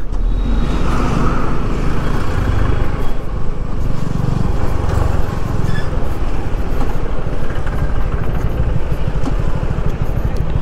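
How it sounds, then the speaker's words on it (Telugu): A road traffic jam at the Atmakur forest checkpost on the ride from Kurnool to Srisailam through Nallamala forest brings loud, close engine rumble from idling and creeping vehicles, with motorcycles and heavier vehicles mixed in. "ఇంత ట్రాఫిక్ జామా?"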